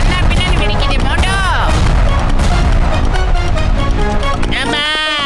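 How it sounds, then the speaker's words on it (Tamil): Loud cartoon explosions: booms and crackling blasts pile up in a dense, chaotic barrage, with whooshing sweeps and excited voices shouting over the continuous din. "பின்னாடி வெடிக்குது"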